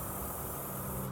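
A modified Milwaukee M18 powered backpack sprayer running on setting 4 gives a steady, close, loud broadband spray hiss with no pauses and no voices.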